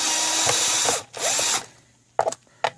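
A power drill runs in steady whirring bursts to remove the two cover bolts on a Ridgid shop vac, followed by a couple of short, sharp mechanical clicks, close and fairly loud.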